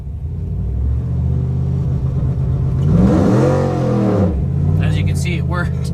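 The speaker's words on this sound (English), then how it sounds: "See, it worked, but it immediately just spins the tires, like not even trying." A 2014 Chevrolet Silverado pickup holds a revving engine on a two-step launch control, the note rising and dropping over about a second before the tires break loose and spin, loud and close.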